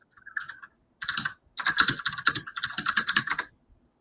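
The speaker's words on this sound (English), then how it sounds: "I hate your keyboard so much." Rapid typing on a computer keyboard, close and crisp, in bursts of clicking keystrokes separated by short pauses, with no talk over it.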